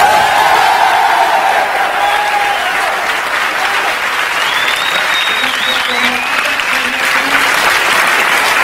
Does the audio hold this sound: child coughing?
no